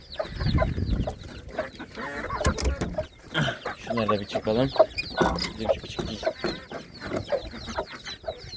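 Hens cluck continuously nearby with occasional rooster calls, while a person speaks briefly over the flock.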